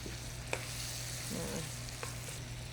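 Fresh pineapple sautéing in brown butter and brown sugar, a soft, steady sizzle with a low hum beneath and a couple of faint clicks, quiet and close, no talk.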